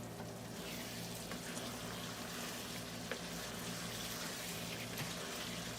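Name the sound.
draining water from rice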